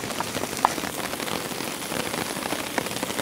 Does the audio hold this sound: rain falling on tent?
yes